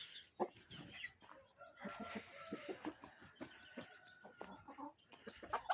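Chickens and a rooster cluck and call in a busy, overlapping stream of short bursts, with brief sustained crowing-like tones, fairly close and moderately loud, with no talk over them.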